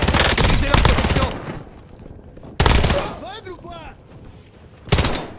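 Gunfire in the Warzone battle royale game, loud close bursts of rapid automatic shots in three separate volleys with quieter gaps between, and a voice heard in one of the lulls.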